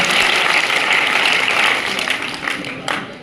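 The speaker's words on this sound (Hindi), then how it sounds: "जोरदार तालियां ब्रिजलाल जी सर के लिए।" Sustained applause from a crowd at a school farewell party, a dense wash of clapping that gradually thins out toward the end.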